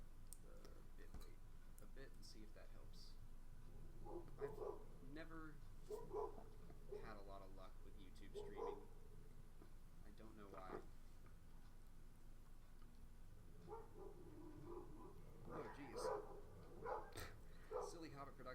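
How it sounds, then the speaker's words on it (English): Neighbouring dogs bark at a distance outdoors, faint repeated woofs coming in clusters over a long stretch while a person talks continuously in the foreground. "My neighbor's dogs are barking."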